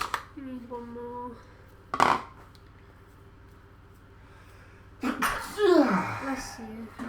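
A single sharp sneeze bursts out about two seconds in, close and loud, during a home baking session with a clink of dishes and people talking around it.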